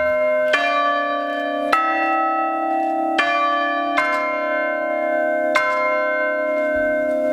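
Large bells sounded by lever batons on an interactive keyboard ring five times in a slow, uneven sequence, each strike loud and clear with a long sustaining hum carrying under the next one.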